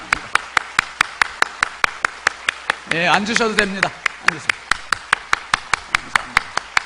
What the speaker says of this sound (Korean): 우리 뜨겁게 15초 박수.